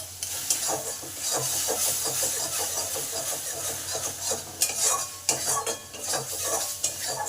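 A spice masala with salt and a pinch of sugar is sautéed in a pan. A utensil stirs and scrapes repeatedly against the metal over a soft, continuous sizzle of oil, close and fairly quiet.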